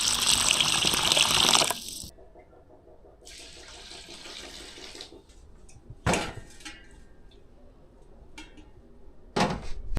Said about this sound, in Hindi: तो इसलिए अभी मैं चावल भिगो के रखूँगी